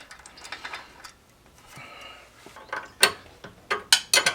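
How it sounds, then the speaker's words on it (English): An 18mm socket wrench ratchets bolts tight during a Metalcloak 3.5-inch lift install on a Jeep JL, giving close, crisp bursts of rapid clicking that grow louder and sharper toward the end. "Then we'll use a 18mm socket wrench and get that guy in."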